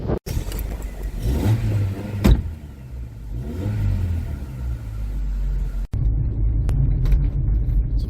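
A 1994 Toyota Carina E 1.6 GLi automatic saloon driving on the road, its mid-pitched engine rumbling and revving steadily from inside the cabin, with wind buffeting the microphone and a couple of sharp knocks.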